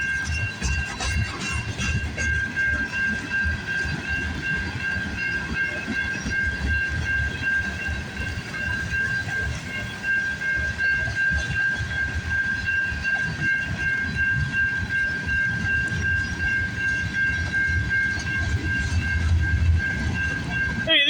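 CN freight train passing on a rainy, foggy early morning, a steady continuous rail rumble with a sustained high squeal or hiss over it, fairly loud throughout with no talk.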